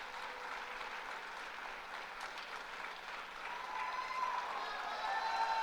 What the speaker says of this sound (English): You can clap. It's fine to clap.